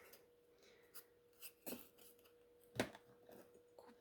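Extruded polystyrene (XPS) foam board being cut into small pieces for faux stone wall corners, with faint, sparse scraping and cutting strokes close by in a quiet room, a few sharper snaps among them.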